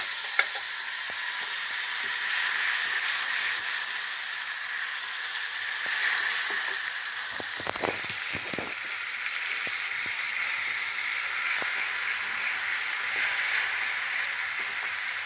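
Ground tomato paste frying in a pan in a 30-year-old home kitchen, a steady close sizzle with bubbling and spattering throughout, briefly broken by a few stirring clatters in the middle.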